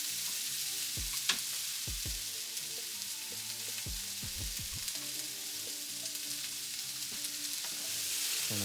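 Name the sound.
carrots frying in a pan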